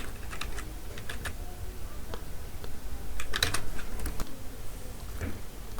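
Python code is typed on a computer keyboard in a rapid, uneven run of close key clicks, with a slightly louder burst partway through and no talking.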